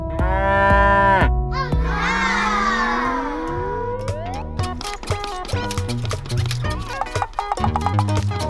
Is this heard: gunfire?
no